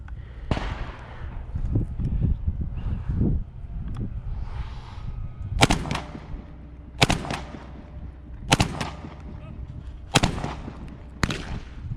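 A Black Aces Tactical Pro Series FD12 bullpup shotgun fires outdoors with about five sharp, loud blasts spaced roughly a second and a half apart, after a few duller knocks and handling sounds at the start.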